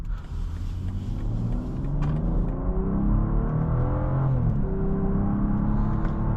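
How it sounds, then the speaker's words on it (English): A 2025 BMW X7 xDrive40i engine pulls steadily under acceleration, a smooth rising drone heard from inside the cabin with road rumble and no talk. "Nice sounding engine and nice acceleration."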